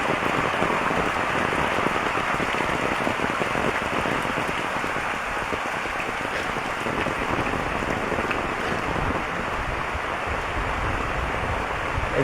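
Heavy rain pours steadily onto a flooded field in the countryside, a dense, loud, unbroken hiss of drops spattering water and ground, with no voices.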